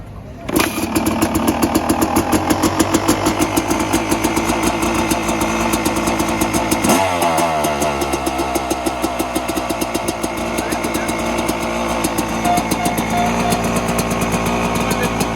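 A motorcycle engine starts and then runs with a rapid, steady putter, close and fairly loud, its revs shifting briefly midway.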